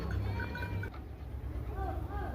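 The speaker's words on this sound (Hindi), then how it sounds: "तो ये देखें भेड़ बकरियां भी आ चुकी हैं घर।" Sheep and goats returning home bleat intermittently at moderate distance, several short wavering calls rising over steady background noise and low voices.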